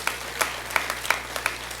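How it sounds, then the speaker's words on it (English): Scattered, fairly steady handclaps from a high school graduation audience in a hall, a thin clapping rhythm rather than a full roar, with no talk. "Give him a round of applause"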